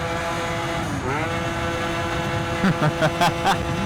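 A Stage6 Yamaha BWS 70 scooter engine revs at half throttle, up close, with a steady buzzing drone that climbs in pitch. It ends in several short, sharp throttle blips.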